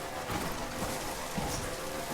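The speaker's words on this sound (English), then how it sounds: "Every time you get over here, like, it's always raining." Video game rain from Death Stranding falls as a constant broadband hiss of drops, steady and fairly close, with no voices over it.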